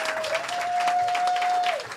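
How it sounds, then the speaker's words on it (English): Audience applause at an entertainment honoring ceremony, brisk clapping from a room of people that stays full and steady for two seconds without any speech. "I think this deserves a round of applause."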